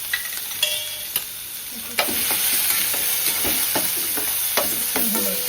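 Ginger garlic paste and hing fry in hot oil with a close, steady sizzle, stirring clatter and scraping breaking through, growing louder and denser after a sharp clank about two seconds in.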